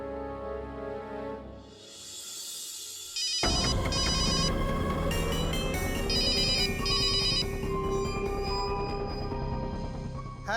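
A telephone rings with a bright, melodic electronic ringtone that bursts in after a few quiet seconds and repeats its jingling pattern loudly and continuously.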